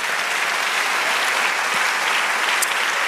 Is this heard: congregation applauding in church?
yes